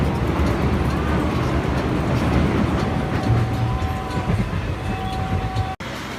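A Jan Shatabdi Express train running from Dimapur to Guwahati rumbles steadily along the tracks, a loud continuous rolling drone heard from inside, with a long tonal whine near the end and a brief dropout just before it stops.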